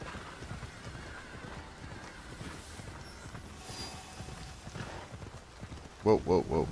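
A horse's hooves clop in a steady rhythm in Assassin's Creed Shadows over faint game ambience, and a voice cuts in briefly at the end.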